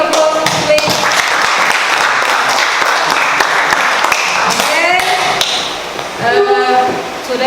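Classroom applause from a group of students, a dense burst of clapping that runs for several seconds before thinning out, with a few voices rising near the end.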